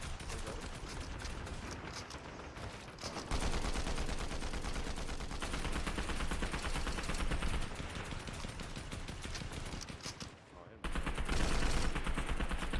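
Rapid, sustained automatic assault rifle fire in a video game rattles loudly and continuously, with brief pauses near three and eleven seconds, and a voice speaks faintly beneath the shooting.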